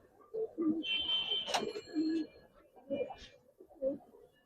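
Close, soft cooing from pigeons in an Old Dhaka loft repeats in several throaty bursts, with a brief rustle or flutter and faint background murmur of people nearby.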